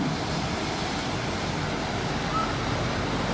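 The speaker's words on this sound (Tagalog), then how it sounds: "Oh, look. Look at the waves." Rough high-tide ocean waves at a Boracay beach make a dense, steady roar of surf with some wind, heard briefly with no clear talk.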